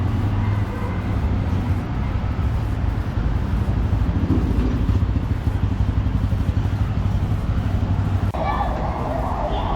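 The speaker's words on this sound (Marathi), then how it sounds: "तर बाईक बाहेर काढून देतात." A newly delivered motorcycle runs at a steady idle near a dealership, its low engine drone continuous throughout with muffled voices in the background.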